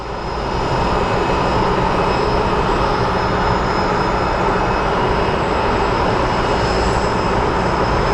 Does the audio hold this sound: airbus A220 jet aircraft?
yes